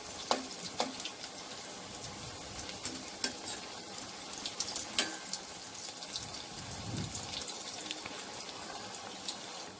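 Soya chunk cutlets frying in hot oil, a moderate crackling sizzle with scattered pops and a few soft utensil clicks.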